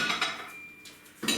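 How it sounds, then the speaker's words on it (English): Dishes go into a home kitchen dishwasher, with a few separate clinks and clatters of crockery and cutlery in quick bursts at close range, and quieter gaps between them. "Now I'm about to put a couple of dishes in the dishwasher."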